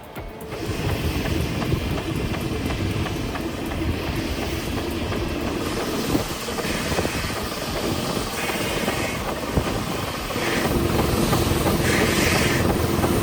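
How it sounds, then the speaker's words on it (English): A train pushes on through a storm, with a loud, steady roar of wind and rumbling motion filling the whole stretch and no letup. "Through the storm, the train keeps moving."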